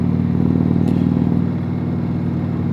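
A motorcycle is ridden on a hot day of about 88 degrees, giving a steady, close engine drone that holds even throughout with no voices.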